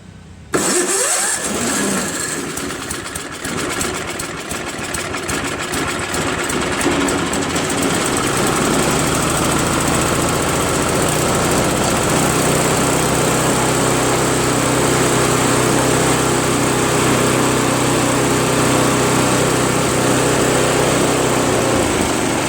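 A Craftsman snow blower with electric start cranks briefly, then its small engine catches and runs at a loud, steady high-pitched drone close up, with no talking.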